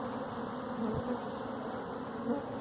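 A large swarm of honeybees buzzes steadily and densely during a hive cutout, a loud, close, continuous drone with no speech.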